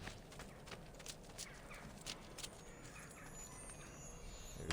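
Horse galloping through a city in the video game Assassin's Creed II, a steady patter of hoofbeats under ambient game sound and faint birds, with no talk.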